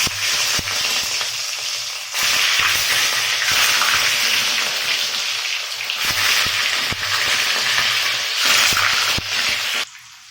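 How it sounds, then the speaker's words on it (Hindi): Paneer pieces fry in hot oil with a loud, close hissing sizzle that swells and dips in bursts, broken by sharp clicks and scrapes from turning the pieces. "पनीर को अभी फ्राई करेंगे।"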